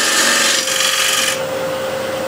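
A tool cuts the tenon of a wooden bowl spinning on a lathe, making a loud, close, continuous rasping hiss over a steady motor hum that drops to a softer whir partway through, with no speech.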